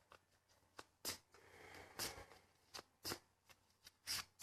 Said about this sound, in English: Gonna shuffle the cards here.